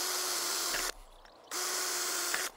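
A power drill bores 10mm drainage holes along the bottom edge of workshop cladding, running in two steady, loud whirring bursts separated by a short pause.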